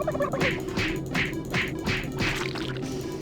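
Turkeys gobbling in the video game Super Turbo Turkey Puncher 3, a series of about six rapid, warbling gobble bursts in a regular rhythm over a faint steady tone, loud and close.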